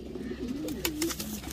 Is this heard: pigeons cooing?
yes